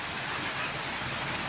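Rain falls steadily onto a wet street with a PVC drainage pipe nearby, a dense, even hiss of drops on hard surfaces that continues without pause and with no voices.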